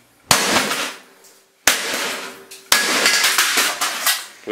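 Three separate sharp, loud cracking impacts of a hammer striking a laptop, each followed by a ringing, rattling decay of breaking plastic and debris, with short pauses between the blows.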